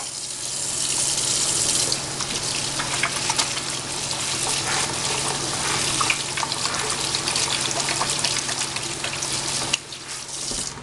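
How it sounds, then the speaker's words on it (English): Tap water runs steadily into a kitchen sink while hands are washed with soap, a continuous close gushing stream with slight splashing changes, briefly dipping near the end, with no talking. "I'm going to wash my hands once again. With lots of soap,"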